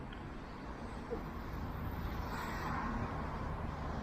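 Faint, steady road traffic rumbles in the distance along the Istanbul seaside, a continuous wash of passing vehicles with an open, outdoor feel and no clear voices.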